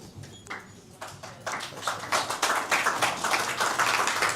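Audience applause at a live presentation, dense overlapping claps building from sparse to a steady, fairly loud ovation across the whole stretch.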